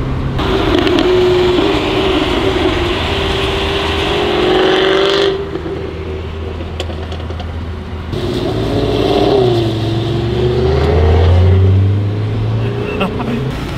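A loud Jaguar F-Type V8 S engine revs and roars up close in the rain, dropping briefly before surging again, with people talking over it.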